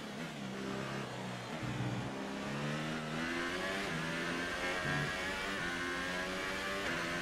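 An F1 race car engine in the F1 2018 video game, during a career-mode race in China. It is a high, steady engine whine with rising and falling pitch as it revs and shifts, continuous and fairly prominent.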